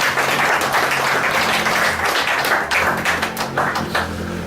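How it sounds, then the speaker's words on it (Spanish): A church congregation breaks into loud, dense applause, many hands clapping steadily and close throughout with no talk over it. "Démosle un buen aplauso al Señor."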